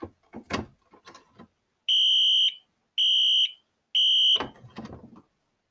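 A fire alarm panel's sounder fires three times in a row, each a loud, steady high-pitched tone lasting about half a second, with short clicks and handling knocks before and after.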